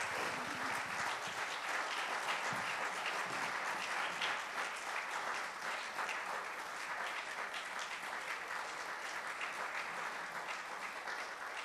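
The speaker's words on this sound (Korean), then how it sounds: "박수로 한번 감사해 주시겠습니다." A lecture audience gives steady, even applause at the close of a talk on Daegu cultural identity, the clapping dense and continuous throughout, heard from some distance in the hall.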